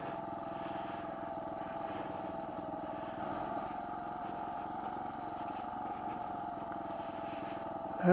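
A motorcycle rolls slowly in first gear along a muddy closed backroad near Banos, Ecuador, its engine a steady, fairly faint low drone that holds even for several seconds before a brief louder burst at the end.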